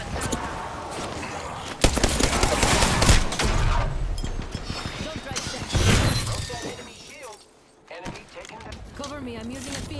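Enemy gunfire in a squad-based shooter video game crackles in rapid bursts and volleys alongside shattering impacts, with loud stretches and brief lulls, while a player talks over the action.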